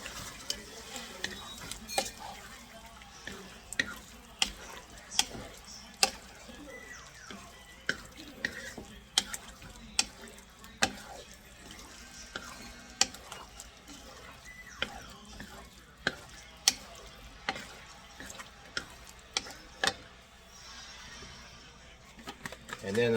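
Seasonings are mixed in a bowl with a utensil for a zesty orange chicken dish, making repeated scraping and clinking taps at an irregular rhythm while a person talks.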